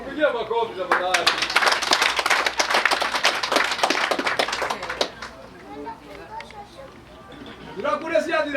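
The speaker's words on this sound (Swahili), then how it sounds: "Upigie makofi tafadhali." Brisk audience clapping at a Kenyan gathering, a burst of sharp claps lasting several seconds and then fading, with voices talking before and after.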